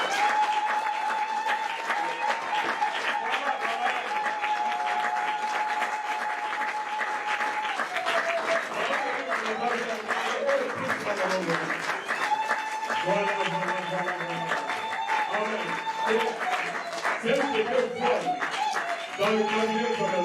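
A church congregation applauds steadily and loudly throughout, a dense clapping wash that carries on for the whole stretch, with voices calling out over it at times.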